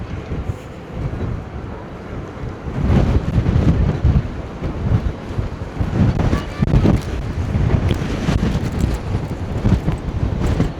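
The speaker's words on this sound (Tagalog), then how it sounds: "Grabe, lakas ng hangin." Strong wind roars and buffets the microphone in heavy gusts throughout on the top deck of a Carnival cruise ship at sea, a low rumbling rush with a few faint voices underneath.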